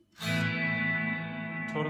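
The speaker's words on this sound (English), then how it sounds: "here's a reverb that I've set totally" A sustained electric guitar chord rings out through a Cheyne Sirius parallel mixer with fully wet reverb, a washy tail hanging in the air before a second strum enters near the end.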